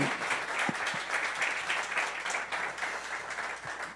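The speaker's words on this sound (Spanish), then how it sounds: "Damos la bienvenida, por favor, un fuerte aplauso." A church congregation applauds in welcome at a morning service, steady dense clapping filling the whole stretch at moderate loudness with no voices over it.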